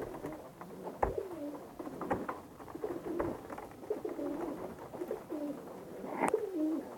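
Pet pigeons coo repeatedly at close range during feeding, low throaty calls in soft rolling phrases over light rustling, with no talk.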